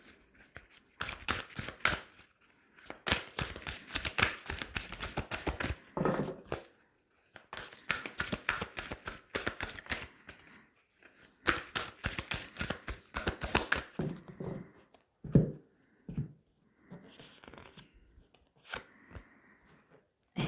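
Tarot cards are shuffled for a reading, a close, crisp run of rapid riffling flutters repeated in bursts with short pauses, no voice over them.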